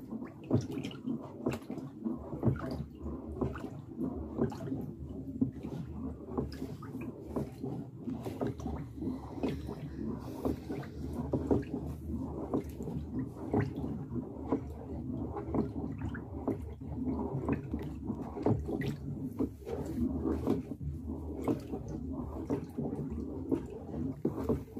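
Homemade bleach, ten litres of water mixed with a bottle of bleach, is stirred in a container, giving repeated soft sloshing and swishing strokes in a steady rhythm throughout, fairly quiet and close, with no talking.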